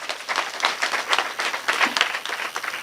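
A church congregation claps in a quick, uneven patter, many hands at once, steady and moderately loud for a few seconds.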